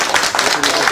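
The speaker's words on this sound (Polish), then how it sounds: "Brawa." Applause rises at an award ceremony, a dense burst of clapping from the audience with voices mixed in over it.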